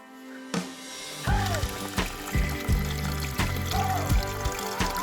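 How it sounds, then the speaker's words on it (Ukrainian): Water from a mountain spring on a hiking trail in the Borzhava range pours and trickles in a steady stream, with thumping knocks and brief chirps over it; a voice speaks faintly at moments. "Вода."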